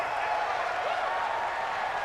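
A stadium crowd roars in a Madden NFL football simulation, Washington at Cleveland, a dense steady wash of cheering and applause that stays loud and even throughout.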